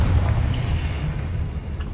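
A Confringo spell explosion in the Hogwarts Legacy video game, a loud, dense low boom that rumbles steadily for about two seconds with no talk over it.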